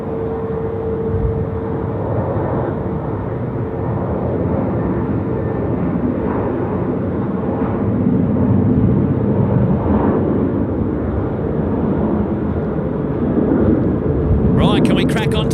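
Qantas airliner departing Sydney's runway 16 right at night on a service to Melbourne, a loud, steady broadband engine roar sustained throughout, with a voice talking over the rumble.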